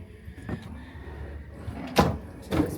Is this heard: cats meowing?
no